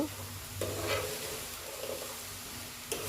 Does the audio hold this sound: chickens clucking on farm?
no